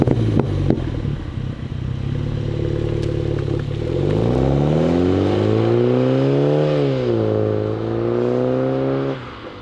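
A Mini John Cooper Works GP driving on the Nürburgring, with engine drone rising and falling through revs and gear changes, loud and close throughout after a brief clattery start.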